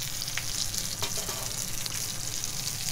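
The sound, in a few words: fish fillet frying skin side down in a pan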